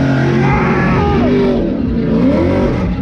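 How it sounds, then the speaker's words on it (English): The Edelbrock Nissan 370Z, making nearly 1,000 horsepower, revs loud and close at the SEMA Show in Las Vegas, its engine pitch climbing and falling through sharp rises with a rasping exhaust note. "Jeff Jones, show us what you can do in that Edelbrock 370Z."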